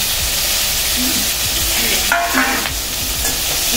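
Malabar spinach stalks and green chilies sizzle loudly in a hot pan, a steady hiss of frying with a few scraping stirs and light clinks of a utensil against the pan.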